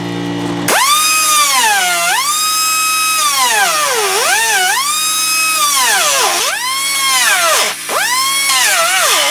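A power tool whines loudly and close while cutting through a car's metal body panel and inner plate, its pitch dipping and recovering over and over as the blade bites under load.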